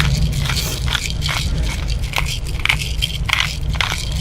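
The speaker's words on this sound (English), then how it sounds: "I'm using ground pepper." A pepper grinder cranks black pepper with a close, rhythmic series of dry crunching bursts, about a dozen grinds in quick succession, with no talking.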